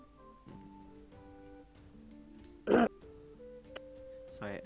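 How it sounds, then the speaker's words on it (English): Someone clears their throat once in a short, loud rasp close to the microphone, amid a quiet room with scattered soft taps and ticks. "Sorry, I had to clear my throat."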